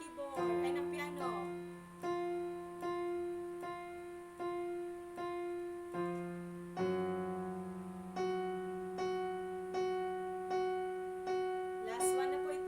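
Steady piano notes played in a slow, even rhythm, each key struck and held, stepping up in pitch partway through, with no voices.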